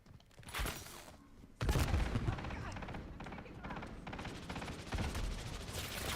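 Rapid video game gunfire crackles through a loud mechanical clatter, starting quieter and then jumping into a sustained barrage after a moment, with brief game voice lines mixed in.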